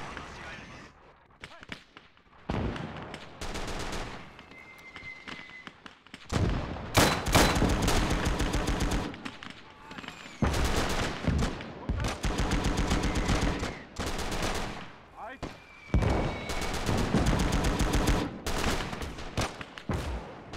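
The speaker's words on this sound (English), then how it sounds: "It's got a machine gun on top." Bursts of machine gun fire in the World War II strategy game Call to Arms: Gates of Hell, Japan against the USA, come as repeated loud rattling volleys with booming impacts and short gaps between them.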